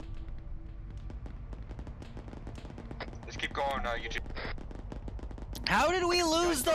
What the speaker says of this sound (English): I hear something shoot to the southwest